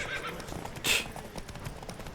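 A horse whinnies once amid rapid clip-clop hoofbeats during a horse race in the video game The Witcher 3: Wild Hunt, fairly close and moderately loud, with the galloping rhythm continuing after the neigh.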